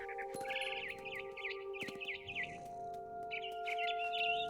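Birds chirping and warbling in the video game What Remains of Edith Finch, repeated bright twittering calls over a steady low ambient hum, with a few sharp clicks mixed in.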